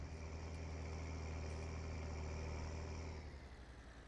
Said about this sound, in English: Good engine sound to it.